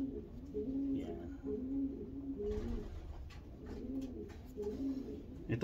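A racing pigeon coos in soft repeated rolling phrases, fairly close, with faint rustling and light background noise between the calls.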